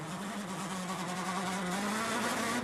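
Rally car engine at the Acropolis Rally after a water splash, a continuous loud buzzing drone with a slightly wavering, uneven pitch that holds steady throughout.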